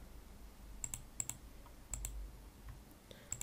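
Computer keyboard arrow keys pressed in quick pairs of light clicks, a few separate taps spread over a few seconds against a quiet room hum.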